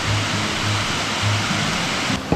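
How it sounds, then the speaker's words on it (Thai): Waterfall pouring from a cliff in a forest, a steady, even broadband rush of falling water that continues without pause throughout, with no voices. "น้ำตกไหลออกจากหน้าผาตรงนี้นะทุกคนสวยเลยครับ"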